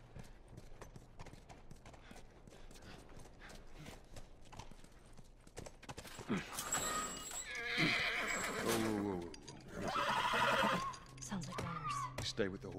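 A horse in The Last of Us video game whinnies loudly and its hooves clop, with game dialogue in the background.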